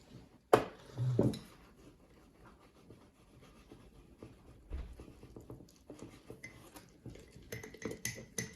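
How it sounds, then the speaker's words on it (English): A utensil stirs sourdough starter in a container, with a sharp knock near the start, then soft, irregular scraping and clinking that stays quiet and close, with no talk. "And we're gonna stir it up."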